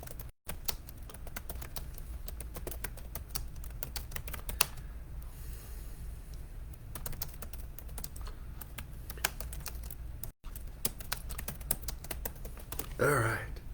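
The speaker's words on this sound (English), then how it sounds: "I was about to type something else." Keystrokes tapping steadily on a computer keyboard during an online forum session, close and fairly quiet, in dense bursts with a couple of brief pauses and some low room noise.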